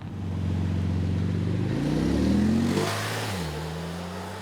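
Car engine at the Goodwood Festival of Speed revving loudly nearby, pitch climbing through an acceleration, then dropping at a gear change before settling into a steady drone.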